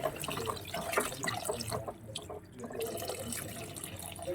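Water runs steadily from a tap into a cooking pot for drumstick sambar, a continuous close splashing stream with a brief lull in the middle before it resumes.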